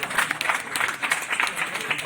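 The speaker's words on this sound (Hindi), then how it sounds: "एक बार रमन जी के लिए भी तालियां हो जाए" Dense, continuous applause from an audience at a book launch ceremony, many hands clapping at once without pause.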